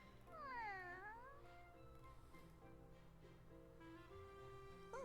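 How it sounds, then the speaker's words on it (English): A cat meows in the video game Fire Emblem Three Houses, one drawn-out rising and falling mew over a soft game music bed, then a fainter short call near the end. "feeding that cat."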